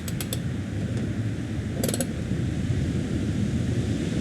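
A tool loosens a nut on a grill bolt with a few quick ratcheting clicks, first at the start and then again near the middle, over a low steady background rumble.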